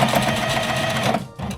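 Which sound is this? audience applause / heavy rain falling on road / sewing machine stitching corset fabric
sewing machine stitching corset fabric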